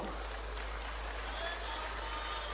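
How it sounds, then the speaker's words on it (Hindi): Applause from a large crowd of women at a state-level employment day event in Ujjain, a dense, even wash of clapping heard from a distance with a steady low hum underneath. "जोर से ताली बजाओ।"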